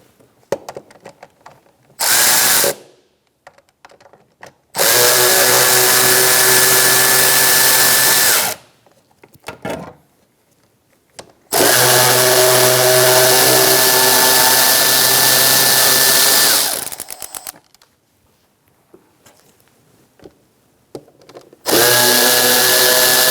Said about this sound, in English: Using a short 8mm socket, we're going to take off these 3 bolts.